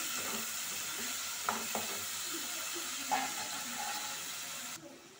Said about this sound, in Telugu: సాంబార్ అయితే మరుగుతుంది